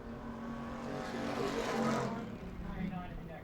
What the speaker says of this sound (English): And here comes Chase Simons to complete his qualifying run